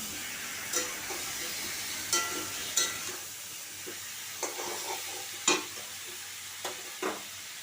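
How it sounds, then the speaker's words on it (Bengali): Pointed gourd (potol) pieces frying in oil in a covered wok, giving a continuous sizzle broken by about eight sharp clinks and stirring knocks of a utensil on metal, heard close with no talking. "তারপর পটলগুলো দিয়ে দিচ্ছি দিয়ে পটলগুলো ঢেকে ঢেকে আমি ভেজে নেবো"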